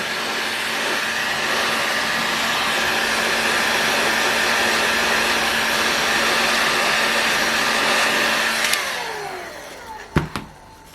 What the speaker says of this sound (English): I have to be careful where I'm pointing this heat gun.